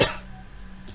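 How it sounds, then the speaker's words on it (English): A single brief throat-clearing burst comes right at the start during a math lesson on ellipses, close and fairly loud, then fading into quiet room tone. "let me clear my throat"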